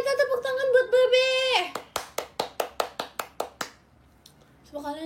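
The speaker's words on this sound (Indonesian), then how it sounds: "Ayo kita tepuk tangan buat Bebe." A short burst of hand clapping during a JKT48 member's livestream, about ten sharp claps in an even rhythm, following a voice and ending in quiet before someone speaks again.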